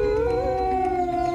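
A single wolf gives a long, steady, close howl that holds one drawn-out tone for over a second, clear and loud.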